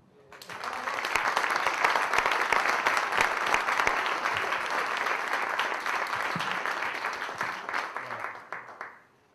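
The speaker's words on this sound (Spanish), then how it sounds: "creo que tengo que agradecer un aplauso." A conference audience applauds steadily, a dense, even wash of clapping that swells quickly, holds for several seconds, then tapers off toward the end.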